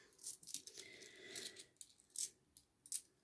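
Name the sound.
coins being handled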